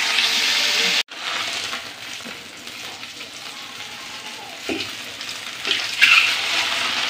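Koi fish fry in hot oil in a pan, giving a loud, continuous sizzle with bursts of spatter and some stirring or clattering toward the end.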